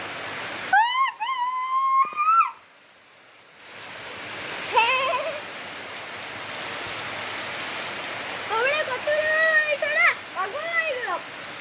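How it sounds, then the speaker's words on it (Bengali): Heavy monsoon rain pours outside, a steady broadband hiss and splash of water running throughout, while children's high-pitched voices call out over it in bursts. "দেখি দেখি বাইরে, দাদা বাবারে কত জল হচ্ছে রে"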